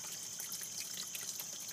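Water steadily filling an aquaponics system, a faint continuous trickling and rushing wash with no clear breaks, fairly distant and low in level, no voices.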